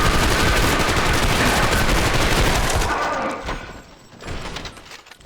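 Rapid automatic fire from the Prospector gun in the video game Trepang2, a dense loud volley of shots for about three seconds that cuts off into a few scattered thuds and fading echoes.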